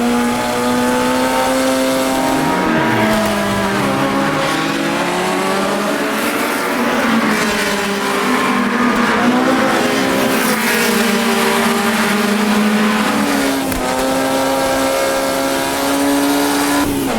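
A Formula Junior race car in the video game AMS2 drones steadily near and loud, its engine pitch rising and falling through gear changes, with faint tyre noise and no talk.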